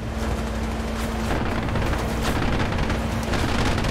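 The 57mm cannon of a Tsetse Mosquito firing in a WWII video game, heard as a dense, continuous roar of booming fire that fills the whole stretch, loud and steady with no talk.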